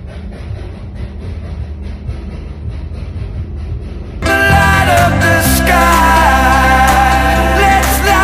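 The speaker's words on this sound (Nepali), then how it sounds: "यो चाहिँ दार्जिलिङको रेलै गाइजहरू हेरिरहनुहोस्, दार्जिलिङको रेल" The Darjeeling hill railway train passing in the hills: a steady rumble and clatter that suddenly swells into loud metallic screeching and squealing of wheels, close and continuous.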